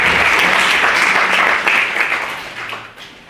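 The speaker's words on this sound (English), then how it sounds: "So please give him a big round of applause." Audience at a debate applauding, dense steady clapping that fills the short stretch and tapers slightly toward the end.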